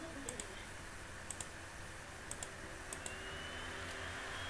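Computer mouse clicks in small pairs and singles, close and faint, over a steady background hiss.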